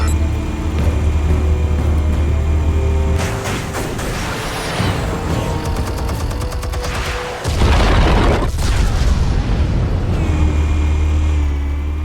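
Explosives detonate in a video game, deep rumbling booms and crashes over a steady low in-game drone, loud and sustained with a heavier blast midway.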